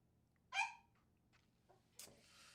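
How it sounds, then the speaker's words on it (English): A single sharp dog bark indoors, followed by a faint whimper and a short yelp, with quiet room hum in between. "That's my dog telling me she wants to go play with her buddy across the corridor"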